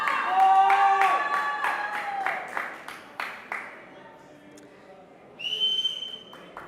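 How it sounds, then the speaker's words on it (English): Spectators at a junior powerlifting championship clap and whistle, with sharp whistles and scattered claps fading out over several seconds before another shrill whistle rises near the end. "Crowd is up again."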